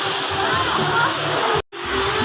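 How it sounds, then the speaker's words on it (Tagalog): Cold river water coming down from the mountains rushes steadily in a broad, continuous wash, loud and close, with a brief dropout near the end before the flow resumes. "Ilog na ilog."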